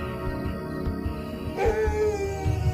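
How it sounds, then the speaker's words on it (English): A Maasai guard dog at night howls and yelps at a nearby hyena, with whimpering cries rising over a busy low rumble of background sound. "The guard dog is aware of the hyena"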